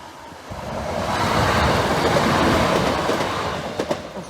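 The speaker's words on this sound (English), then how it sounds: "Train approaching." A train rumbles and clatters past the Skellingthorpe Road level crossing in Lincolnshire. The noise is moderately loud and swells to a broad roar, then fades, with a few sharp clacks near the end.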